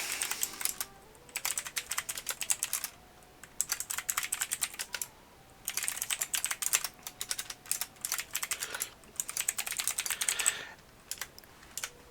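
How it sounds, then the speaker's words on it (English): Steady typing on a computer keyboard, rapid clicking keystrokes in bursts separated by short pauses, close and clear with no talking. "Okay, and I will just go ahead and type these down."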